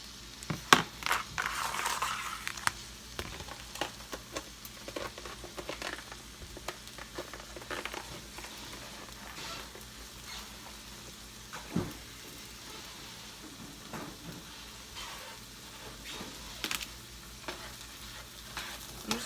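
Fried rice with shrimp and eggs stir-fried in a pan, a continuous soft sizzle broken by irregular scraping and stirring clatters, close and fairly quiet.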